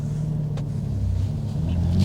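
A BMW M2 Competition with its S55 engine pulls away from a green light on a morning drive, a deep steady engine rumble building louder through the pull with no talk over it.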